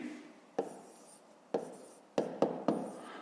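Pen strokes on paper while working a fifth-grade math fraction exercise, landing as five short, sharp taps and scratches spaced irregularly over a quiet background.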